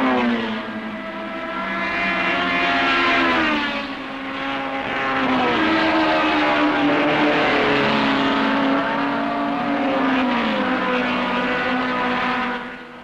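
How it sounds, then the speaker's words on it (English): 1968 British Saloon Car Championship race cars, including Minis, Imps and Escorts, racing past with loud, rising and falling engine whines that shift pitch as the pack goes by. "the rest of the pack is fighting furiously, with minis, imps and escorts all trying to outdo each other."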